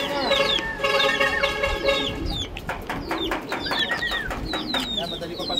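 At a racing loft, pigeons coo and flutter as a young bird arrives, with close chirps, wingbeats and clucking calls over a background of people talking.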